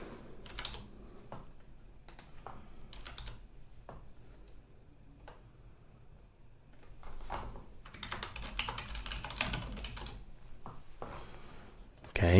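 Computer keyboard keys clicked in short irregular bursts, quiet and close, with a denser flurry of typing toward the end.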